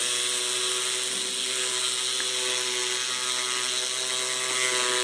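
Dental handpiece with a burr running at low RPM while preparing teeth for direct composite veneers, a steady high-pitched whirring whine that is constant and close with no talking.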